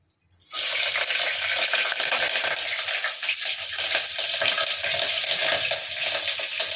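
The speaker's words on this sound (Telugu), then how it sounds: "2 చెంచాల ఆయిల్, నూనె వేడైంది, పచ్చిమిరపకాయలు వేసుకోవాలి." Green chillies sizzling in two spoons of hot oil in a pan for spicy Telangana-style mutton liver, a loud steady crackling hiss that bursts in and holds evenly throughout, no voices.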